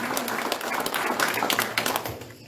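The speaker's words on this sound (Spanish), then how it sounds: "denle un aplauso al Señor en esta mañana" A church congregation gives a short burst of applause on a morning service, brisk clapping that fades out toward the end.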